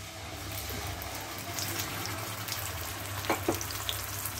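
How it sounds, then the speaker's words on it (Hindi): Ground tomatoes go into a pan of sizzling cumin, giving a loud continuous frying hiss with a few sharper spits and stirring noises partway through. "तो अब मैं इसमें डाल दूंगी ये टमाटर जो कि मैंने पीसे हैं"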